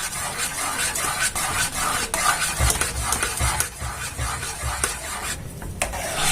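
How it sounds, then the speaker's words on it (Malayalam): Thickening rice flour paste is stirred steadily in a pan for a Kerala appam batter, giving a continuous scraping, rubbing texture with soft repeated strokes and occasional thuds, fairly close and without talk. "നല്ലവണ്ണം കൈവിടാതെ ഇളക്കി കൊടുക്കുക."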